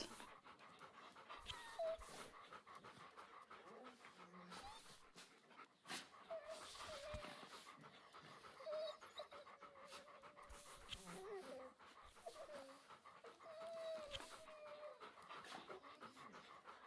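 Sled dogs in the video game The Pale Beyond pant softly and let out occasional faint whimpers, a quiet, rhythmic breathing texture with light game sounds around it.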